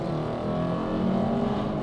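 Kia K5 GT launching in normal mode during a drag race against a Dodge Charger 5.7 Hemi, a steady close engine drone with a mild rise in revs, no talk over it.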